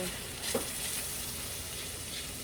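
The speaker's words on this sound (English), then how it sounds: "mix this around, and we're going to let the flour flavor cook out" Flour stirred into hot fat in a pan for a seafood lasagna sauce, giving a steady, moderately loud sizzle with a brief scraping stir near the start.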